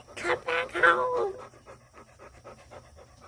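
Dogs pant nearby in quick, soft breaths that continue after a short stretch of talking at the start.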